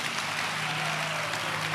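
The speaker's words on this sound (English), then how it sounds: "Give the Lord a clap of it." Church congregation applauding, a steady wash of many hands clapping at an even level with a low hum underneath, lasting under two seconds.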